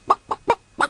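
A chicken gives four short, evenly spaced clucks, close and clear, with quiet gaps between them.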